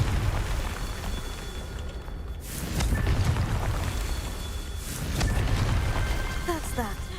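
A Confringo fire spell from a Harry Potter video game bursts into two broad, rumbling explosions a couple of seconds apart, loud and close, over a steady layer of game ambience and music.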